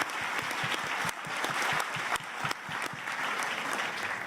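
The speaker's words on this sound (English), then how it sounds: "please give the students and their teacher and principal a huge round of applause" An audience gives a big round of applause for students, their teacher and principal at a Forum Club event, dense sustained clapping from many hands filling the room at an even level throughout.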